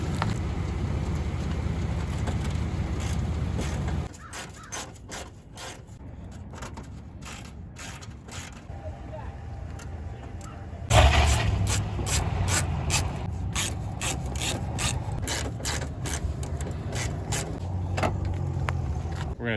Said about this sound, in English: Looks to be a nut I gotta take out.